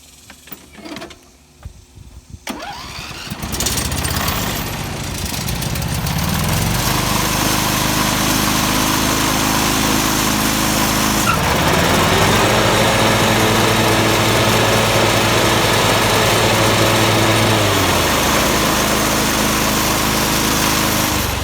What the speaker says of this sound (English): that should let you run your mower without sitting in it and let the deck start